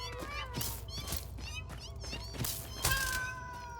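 Cat-faced spiders in the video game Satisfactory let out repeated plaintive meows, several overlapping cat cries in quick succession with a louder, sharper meow near the end.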